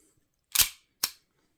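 A spare Remington magazine is pushed into a KWC 1911 air pistol, producing two crisp, close metallic clicks about half a second apart against silence.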